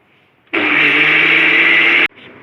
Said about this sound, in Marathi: आता ह्यो मसालो आमी न्हय वाट्टू का.